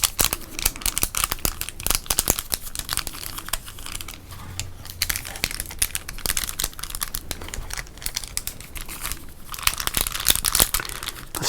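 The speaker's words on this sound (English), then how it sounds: "Let's just crinkle up some packs here, huh?" Foil packs of 1991 Topps baseball cards are crinkled and handled up close, giving dense crackling and rustling with sharp crisp snaps throughout, and no voice is heard.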